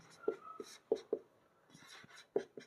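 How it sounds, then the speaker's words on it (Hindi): Pen writing out arithmetic progression working on paper, heard as a faint run of short scratchy strokes and taps in uneven bursts, close by and quiet, with no talk. "तो यहाँ लिखेंगे हम यहाँ"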